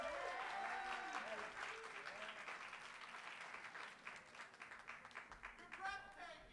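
Sustained audience applause fills the room at an in-person KH20 award celebration, loud at first and slowly thinning, with cheers and voices calling out over the clapping near the end.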